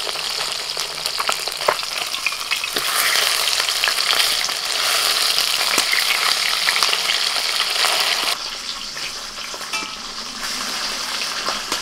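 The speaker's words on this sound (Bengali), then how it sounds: "প্রথমেই বাটা মাছটা ভেজে নিই।" Bata fish fry in an oil-filled pan, a loud, steady crackling sizzle with occasional stirring clinks that continues for about twelve seconds.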